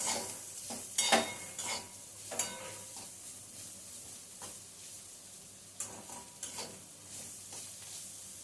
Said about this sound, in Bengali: এই তিনটে জিনিসগুলো আমরা এর মধ্যে দিয়ে দিয়ে ভালো করে নাড়িয়ে নিচ্ছি।